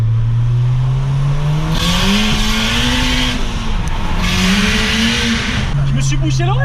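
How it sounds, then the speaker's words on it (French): A stage 3 Skoda Octavia tuned to 550 horsepower idles loudly up close while its turbo with an external wastegate blows off in two long hissing rushes over the steady engine drone. "C'est le turbo? En fait, c'est le turbo parce qu'il y a une Westgate externe en fait."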